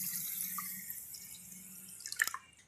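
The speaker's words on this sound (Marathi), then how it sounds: "ग्लास भरून पाणी ओतते" Water pours into a glass holding sugar for lemon sherbet, a faint, thin trickling splash that runs quietly and ends with a few brief drips and a small clink near the end.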